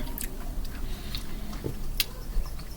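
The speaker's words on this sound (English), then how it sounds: "it's a lot of chewing because I asked for like double the the dragon fruit scoops" Soft close-up chewing of dragon fruit pieces from a lemonade-based refresher drink, a steady, wet mashing rhythm with faint clicks and squishes and no talking.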